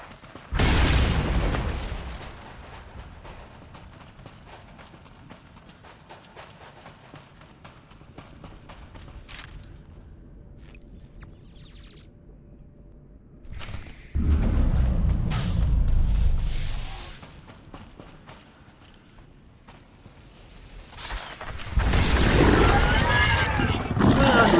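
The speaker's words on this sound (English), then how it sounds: "call in an airstrike" Airstrike explosions in SWTOR, three separate heavy booming bursts spaced across the stretch with quieter gaps between them, loud rumbling blasts that each swell and fade.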